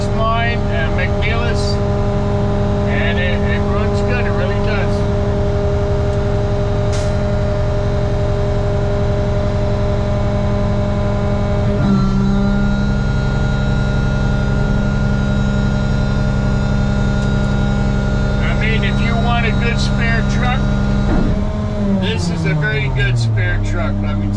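A McNeilus-bodied garbage truck's engine runs steadily with a loud, constant low drone and hydraulic whine, its pitch shifting a couple of times as the packer cycles, heard close up.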